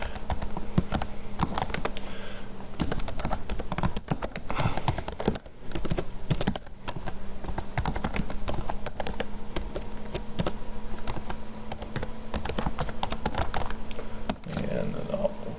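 Rapid, continuous tapping on a computer keyboard, close and fairly loud, with irregular bursts of keystrokes running nearly the whole time and a few brief pauses.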